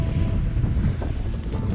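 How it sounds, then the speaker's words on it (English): Wind buffets the microphone outdoors near Ningaloo on the Australian coast, a steady low roaring rumble with gusty swells that stays continuous and fairly loud throughout. "Windy, yeah."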